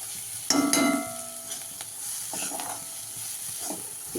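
Chili powder masala and tomatoes sizzle and fry in a pan while a spoon stirs them for a baby jackfruit masala fry, with a loud scrape at first, then a steady soft sizzle close up.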